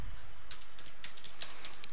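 Fingers type on a computer keyboard, producing light, quick, irregular key clicks close by with no talk during the burst.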